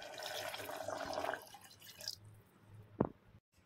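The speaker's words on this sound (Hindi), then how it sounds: "अब हम लोग इसमें डालेंगे पानी," Water is poured into a pressure cooker holding tender cooked mutton: a soft, steady splashing pour lasts about a second and a half, then fades to a quiet lull and a single small drip.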